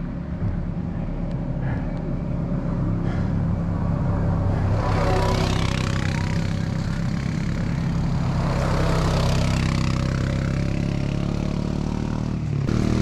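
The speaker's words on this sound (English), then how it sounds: "And there is somebody out here on an ATV." ATV engine approaching and passing by outdoors, a continuous rumbling drone that swells twice into louder rasping peaks before easing off, with no talking.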